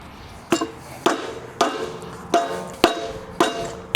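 A hammer taps a trailer wheel hub to work it loose: seven sharp metallic blows, close and evenly spaced about half a second apart, each ringing briefly over a quiet background.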